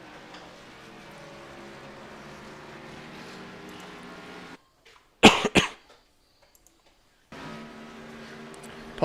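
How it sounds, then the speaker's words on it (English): A man coughs sharply a couple of times close to the microphone, with a brief silence on either side, while a soft engine hum from a racing video game plays beneath before and after. "A little cough going on there."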